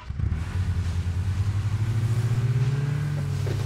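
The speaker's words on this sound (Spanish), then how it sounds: "Cojo el coche y subo para arriba" In the game PUBG, a car engine rumbles and revs up steadily as the vehicle accelerates, close and loud with a rising pitch and no talk.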